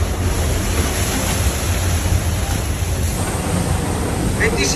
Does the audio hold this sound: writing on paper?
no